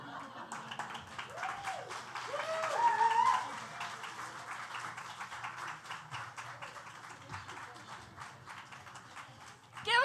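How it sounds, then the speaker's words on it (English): A crowd at the Continental Club applauds after a performer's set: dense, continuous clapping from a room full of people, peaking early, then settling into a steady patter before a final swell. "Give her another round of applause"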